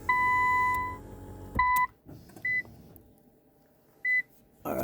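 A 2020 Infiniti Q50 gives clear electronic chime tones as its ignition is switched on: a long two-tone beep, a second pair, then two short single beeps, loud and close over a faint background hum.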